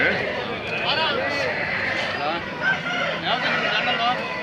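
A rooster crows amid a busy, noisy scene, partly buried under people talking nearby.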